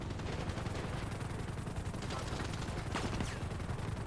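Rapid, continuous gunfire in GTA Online, dense automatic bursts crackling close and steady throughout with no gaps.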